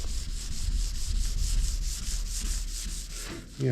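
Chalky oxidized paint is scrubbed wet by hand in a crosshatch pattern, a close, continuous rhythmic rubbing and swishing with regular back-and-forth strokes.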